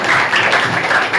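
A group of schoolchildren at a school skills-week event clap their hands to praise a classmate's handmade plastic-bottle-and-paper craft. The clapping is loud, close and continuous, with no voices.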